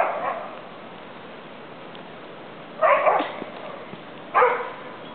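During a snowy blizzard, a dog gives two short bark bursts a second or so apart, moderately close, over a steady hiss of wind and snow with no talking.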